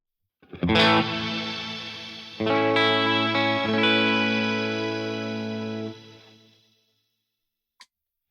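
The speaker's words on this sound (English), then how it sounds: "turn the reverb on. And let's start with the shimmer." A guitar through a shimmer reverb pedal rings out as two sustained strummed chords with bright, octave-up swirling tails that slowly decay to silence, followed by a faint click.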